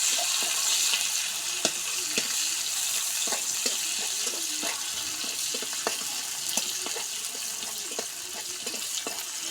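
Crushed garlic and onion with cumin frying in oil until browned, a continuous hissing sizzle with scattered soft clicks and taps of a utensil, close and even throughout with no speech.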